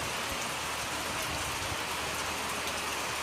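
Steady rain falls outdoors in monsoon weather, a dense, even hiss of drops on surfaces that fills the whole stretch with no voices.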